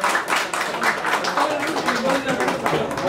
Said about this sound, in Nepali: एकपटक फेरि पनि जोरदार ताली बजाइदिनु विनम्र अनुरोध छ।